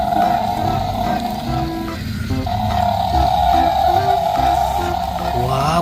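A toy crocodile gives out a loud, steady electronic roar, a droning growl that runs on without pause, heard up close.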